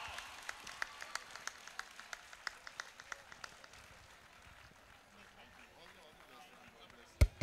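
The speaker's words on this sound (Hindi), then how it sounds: "तालियां बजनी चाहिए, कम ऑन यार" Crowd clapping at a school festival event, rhythmic, evenly spaced claps for the first few seconds that fade into scattered applause and murmuring voices, ending with a loud thump.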